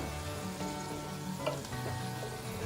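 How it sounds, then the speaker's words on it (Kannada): Homemade hair oil with gooseberry simmering over a low flame, a soft steady bubbling sizzle with faint crackles and no talk. "ಎಲ್ಲನೂ ಕಡಿಮೆ ಉರಿಯಲ್ಲೇ ನಾವು ಕುದಿಸ್ಕೊಂಡಿದೀವಿ"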